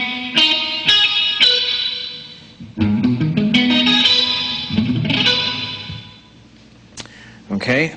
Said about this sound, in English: which will make these all minor triad arpeggios